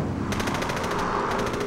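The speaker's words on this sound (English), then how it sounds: "I was just overwhelmed with automatic gunfire" Automatic gunfire rattles off in a rapid, evenly spaced burst of sharp shots, loud and close, running almost two seconds without pause.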